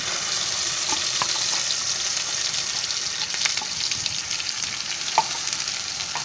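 Onion and coconut masala hits hot oil tempered with mustard seeds and cumin for a bean curry, giving a loud, steady close-up sizzle with faint crackles throughout.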